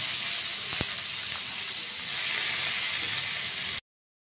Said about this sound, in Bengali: আমি এবার সেদ্ধ করা থোরগুলোকে এই তেলের মধ্যে দিয়ে দেবো